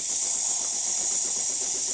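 A De'Longhi Impressa F7 coffee machine dispenses hot water, giving off a steady, bright steam hiss that stays close and even for the brief moment.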